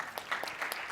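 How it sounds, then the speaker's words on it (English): An audience at a fitness industry conference session applauds, a dense patter of claps heard fairly close and lasting only a moment, with no speech over it. "A round of applause for that."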